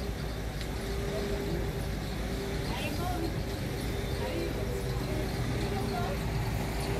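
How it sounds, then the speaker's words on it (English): Buses moving around the Los Cristianos bus terminus in Tenerife: a continuous low engine rumble and traffic wash with distant babble and a person talking over it, steady level throughout. "Buses going all over the place."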